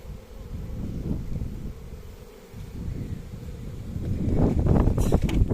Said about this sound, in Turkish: Burada arılarımız sakin durumda.